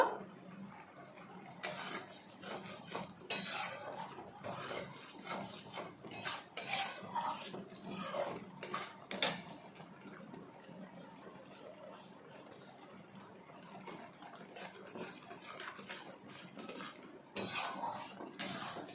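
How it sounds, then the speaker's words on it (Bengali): A utensil stirs and scrapes biscuit crumbs into a carrot mixture in a wok, making faint, irregular scraping and rubbing strokes, some in quick clusters. "কড়াইয়ে অল্প অল্প করে বিস্কিটের গুঁড়োটা মিশিয়ে দেব।"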